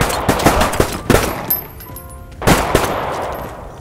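Video game gunfire: rapid automatic bursts in quick clusters, loud and close, with a short lull before another volley.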